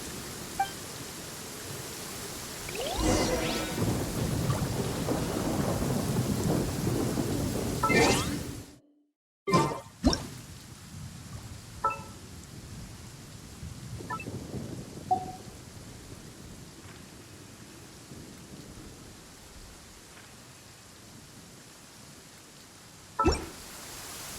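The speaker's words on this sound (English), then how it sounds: "Uh-oh! Lightning storm! Just our luck." A thunderstorm rolls through a Genshin Impact game world, with deep rumbling thunder and a steady rain-like hiss, a sharp cut to silence midway, then quieter rumbles and scattered cracks of lightning returning.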